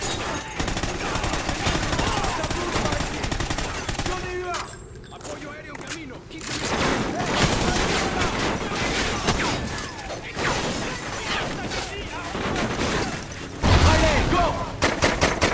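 Gunfire in a video game, dense bursts of automatic and single shots with mechanical clatter and shattering, sustained and loud, while voices shout over the action.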